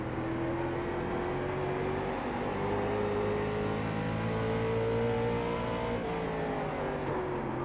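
Late model race car engine in iRacing at Stafford, a steady droning hum with slowly shifting pitch as the car circles the track, close and continuous with no talk.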